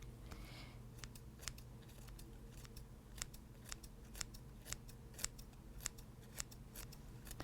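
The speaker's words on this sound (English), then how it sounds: "I like using scissors to chop things or cut like leaves" Scissors snip through fresh basil leaves in a kitchen, a steady series of sharp, crisp clicks repeating about once a second, close up and alone over a low background hum.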